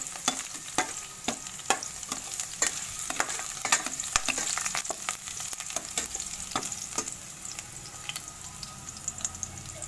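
Garlic sizzling in hot cooking oil for sweet and sour fish escabeche, a steady hiss with frequent sharp spatula taps and stirring scrapes, fairly close and moderately loud, no talking.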